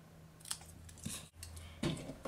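Scissors snip through a stamped paper banner for a pinwheel birthday card, giving a few quiet, close crisp cuts over about two seconds with faint handling noise.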